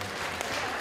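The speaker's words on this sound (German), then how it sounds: "Jetzt wäre ein Applaus angebracht." Carnival audience applauding a school sketch at a Fasching show in Ligist, a brief, dense burst of clapping from a crowd, steady and moderately loud.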